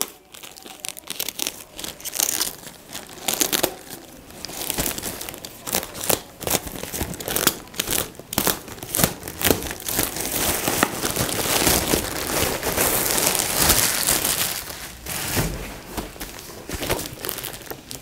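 Torn outer packaging on a returned parcel is cut open, giving continuous close crinkling, tearing and snipping noises with irregular sharp crackles throughout.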